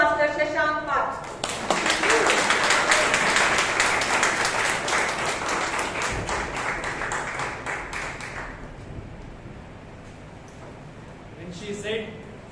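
A meeting audience at a Toastmasters club in Bangalore gives a sustained round of applause welcoming the Toastmaster of the day on stage, steady dense clapping for about seven seconds that then fades into room quiet with a voice at the end.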